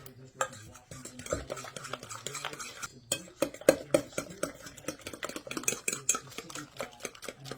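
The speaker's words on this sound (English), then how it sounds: "Then we're going to mix this up." A spoon stirs a butter mixture in a pan on a low stove, making rapid scraping and clinking strokes with short pauses, close and fairly quiet.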